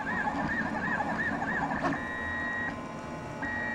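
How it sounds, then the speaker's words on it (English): A home-built Printrbot 3D printer runs a test print, its stepper motors whining in wavering, then steady tones. Short pauses and shifts in pitch mark changes in head movement, with quiet mechanical whirring underneath. "I built this entire machine, and I've been test printing and just trying to get it to work"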